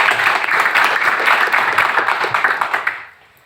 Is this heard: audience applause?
yes